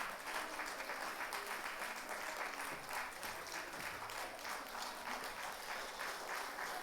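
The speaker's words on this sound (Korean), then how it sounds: "네, 박수 한번 해 주십시다" A church congregation claps together in sustained, dense applause that holds at an even level throughout without a break.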